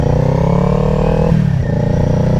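A motorcycle engine idles with a steady close rumble, then is switched off and winds down abruptly after about a second and a half, leaving a fading low hum.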